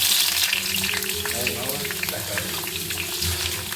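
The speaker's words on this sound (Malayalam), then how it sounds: "നമ്മൾ ആവശ്യത്തിനുള്ള വെളിച്ചെണ്ണ ഒഴിച്ചിട്ടുണ്ട് അതിലേക്ക് നമ്മൾ അതെല്ലാം ഇടണം അത് സവോള ഇടണ്ടേ ഇതിൻ്റെ അകത്തേക്ക് സവാള ഇടാം" Onion hits hot coconut oil in a pan and sizzles loudly and continuously up close, with some stirring and a faint voice in the background.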